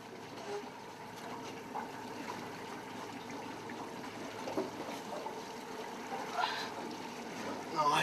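A boat motors steadily along the shallow Murray River with little water under the prop, its low engine drone and water wash running continuously at moderate level with faint wind throughout.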